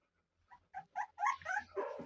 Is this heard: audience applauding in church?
no